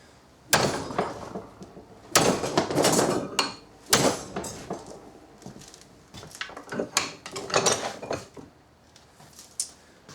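A hickory wooden training blade takes a series of sharp, hard strikes in a durability test, loud wooden cracks arriving in irregular bursts with brief gaps and ringing decays between them.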